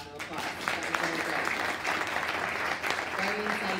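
Sustained audience applause for a panel at a networking event in New York, a dense steady wash of many hands clapping with faint voices mixed in underneath.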